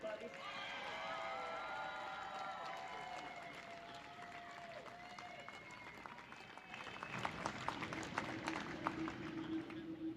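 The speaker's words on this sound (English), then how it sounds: "I can hear the roar of the crowd one state over as these rookie cage competitors have given it their absolute all" Crowd at a Thunder Hill Speedway race day applauding and cheering rookie cage racers, a steady distant roar with clapping that swells louder in the last few seconds, under some tonal background sound.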